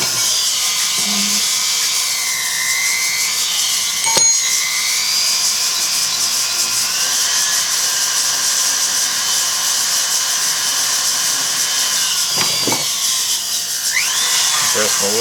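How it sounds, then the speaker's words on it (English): A rotary grinding wheel running steadily on a three-stone diamond engagement ring during stone setting, a continuous high-pitched whine that holds close and loud for the whole stretch, with small shifts in pitch as the wheel sweeps. "I'll take another big sweep at it, and I keep my wheels moving so I don't cut gouges in them."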